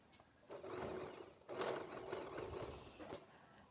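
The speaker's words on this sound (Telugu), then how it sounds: "చుట్టూరా మళ్ళొకసారి పైన స్టిచ్ చేసుకుంటున్నాను" A sewing machine top-stitches around a baby frock in two or three close, steady whirring bursts with a short pause between runs; no voices.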